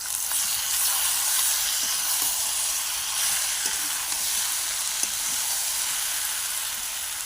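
Pointed gourd and potato pieces frying in oil, a continuous bright hiss of sizzling with occasional faint clicks of stirring, steady and fairly loud from start to finish.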